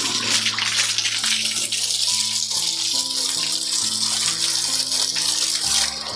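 Tap water gushes steadily from a faucet fed through a water softener, a loud, continuous close-up rush with faint tonal ringing underneath.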